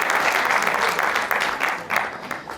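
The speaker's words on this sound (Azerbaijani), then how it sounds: "Gəlin alqışlayaq və Çinarə xanımı səhnəyə dəvət eləyək." A studio audience claps loudly on a comedy show's New Year episode as a guest is welcomed onstage, dense applause swelling in short waves before easing slightly at the end.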